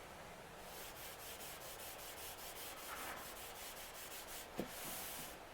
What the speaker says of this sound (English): Just very lightly rub and let the brake clean and the steel wool do its job